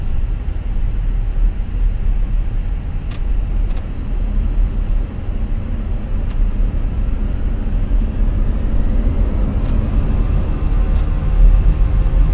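Airbus A321 taxiing at night in Microsoft Flight Simulator 2024, Jet2 livery at Zurich: a steady, loud low jet engine rumble and hum with faint high whine, constant throughout with occasional small clicks, no talk.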